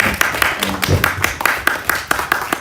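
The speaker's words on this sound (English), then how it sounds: "We welcome them with rounds of applause" A conference audience at a forum in Africa welcomes panel guests with rhythmic, fairly loud rounds of applause, a voice speaking briefly beneath the claps.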